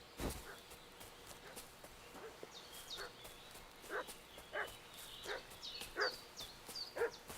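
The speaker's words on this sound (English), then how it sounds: "What's that dog making such a fuss about?" A dog barks and whimpers repeatedly in the medieval village setting of Kingdom Come: Deliverance II, a string of distant, faint yips and bow-wows spaced a second or so apart over low ambient noise.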